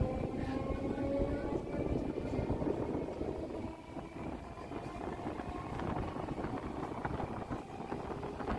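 Howrah-Bandel local train running, heard from on board as a continuous loud rumble with rattling wheels and carriage noise throughout, with voices faintly mixed in.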